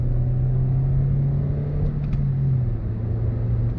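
A 2003 Toyota Yaris TS with a 1.5 VVT-i 105 hp engine cruising on the road, its steady droning engine hum and tyre rumble heard from inside, engine note dipping slightly near the end, no talking.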